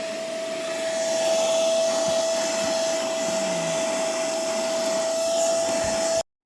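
A MOOSOO cordless wet dry shop vacuum runs loudly and steadily on the seats of a Jeep, giving a constant high whine with a strong tone, then cuts off abruptly at the end.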